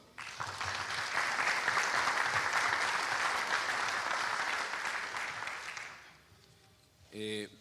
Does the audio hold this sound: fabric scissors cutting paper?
no